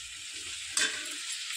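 Ridge gourd and potato frying in a pan produce a continuous hissing sizzle, with a brief louder burst of crackle partway through.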